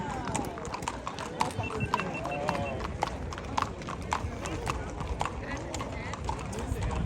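Horse hooves clip-clop in a steady trotting rhythm on a hard surface, with people talking over the hoofbeats and background street noise.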